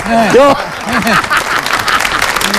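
An audience applauds a guitarist at a folk music gathering, steady clapping heard under a voice that talks over it.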